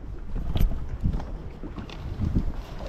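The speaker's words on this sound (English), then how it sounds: "This wind is not my friend." Wind buffeting a microphone out on the water at Lake Fork, Texas, during a bass fishing tournament, with low rumbling gusts and soft thumps rising and falling steadily throughout.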